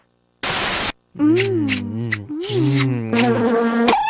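A short hiss gives way to close, loud buzzing drones of bees from the video game You Don't Know Jack (2011), the pitch wavering up and down in a continuous electronic-sounding hum.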